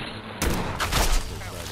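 A dense burst of rapid gunfire erupts in the video game Fallout 4 after a brief quiet moment, loud, overlapping shots running together for over a second before tapering off.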